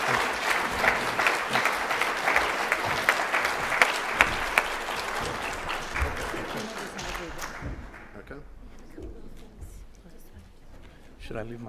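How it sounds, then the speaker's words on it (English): Audience applause at a patient conference fills the first seven seconds, steady clapping that then fades away, followed by a quieter stretch with some talking. "A big round of applause."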